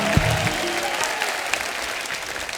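A studio audience at a televised comedy show gives the guests steady, enthusiastic applause, a dense continuous patter with a brief voice at the very start.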